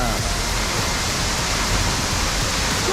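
Spray from a tall waterfall in Uganda roars loud and close as a dense, unbroken hiss of water, with wind buffeting mixed in.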